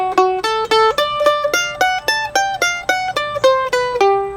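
A clean guitar plays a quick lick of plucked notes that glide between pitches, each slide ringing briefly before the next, alone and close.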